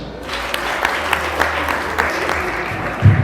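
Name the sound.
applause, clapping hands at a wedding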